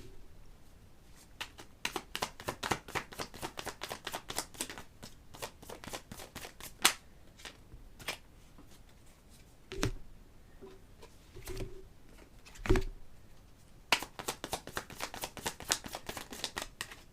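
Tarot cards are shuffled in quick, crisp riffling bursts, then slowed to a few separate soft slaps as cards are drawn and laid down, before the rapid shuffling resumes; close and fairly quiet, with no talk.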